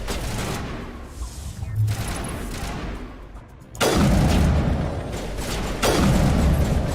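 Rapid, heavy weapon fire in the Mass Effect Legendary Edition game, loud, dense bursts that briefly drop out near the middle and then return even louder and sustained, with no talk over it.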